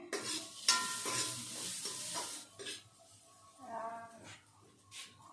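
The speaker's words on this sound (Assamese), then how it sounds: "সৰু আলু ভাজিছোঁ" Small potatoes fry in a pan with a steady hissing sizzle, broken by occasional stirring scrapes and clatter, heard up close in a home kitchen.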